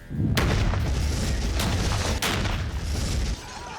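A microwave oven blown up with explosives gives a sharp, loud blast that rolls into a sustained rumbling roar, with a second crack partway through before the noise cuts off near the end.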